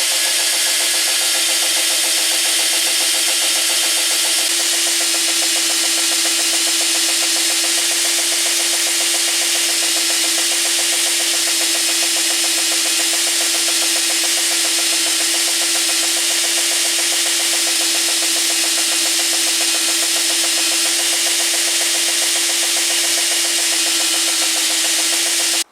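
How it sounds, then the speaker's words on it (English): A linisher belt grinder running an abrasive belt to clean up the edges of a knife handle, giving a loud, steady, unbroken grinding whine with a constant hum throughout and no voices. "Now for the last job of the linisher, just to clean up these edges."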